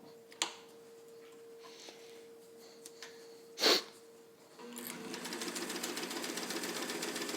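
A pink all-metal Brother Atlas sewing machine from the fifties starts stitching through two layers of thick, fluffy heavyweight upholstery fabric with a size 16 needle, a steady rapid mechanical whir after a few separate clicks and knocks.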